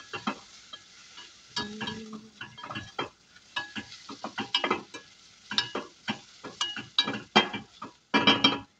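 Green beans seasoned with turmeric and paprika are stirred in a pot, a string of close, irregular scraping and clinking strokes from a spoon against the metal over a low sizzle.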